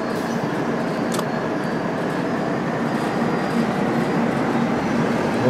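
A freight train runs in Train Sim World 3, giving a continuous rumbling roll of wheels and engine, steady and fairly loud throughout, with a couple of brief higher rattles and no talking.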